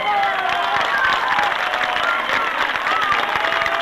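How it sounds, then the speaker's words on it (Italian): Audience applause and crowd noise at a 1992 live concert in Casoria, a dense steady wash of clapping filling the space with no clear gaps. "applauso a Giovanni."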